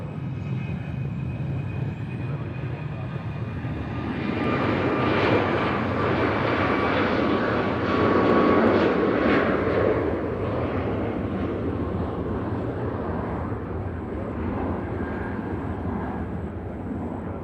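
A United airliner bound for San Francisco takes off at Nashville International Airport, its jet engines building to a loud, broad roar that swells in the middle and then stays steady as it climbs away, with no talking.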